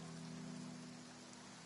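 Steady rain falls in the video game Genshin Impact, an even patter on surfaces with a low hum underneath, continuous and moderately loud.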